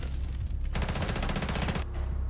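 Rapid gunfire from the tactical shooter game Rainbow Six Siege, a dense burst of repeated shots rattling continuously for about a second under steady background noise, with no talking.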